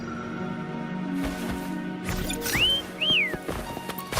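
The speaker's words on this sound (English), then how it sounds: "Try whistling." A character in the video game Wuthering Waves whistles to call Foam, two short rising-and-falling whistle tones standing out over a busy game soundscape with music and effects.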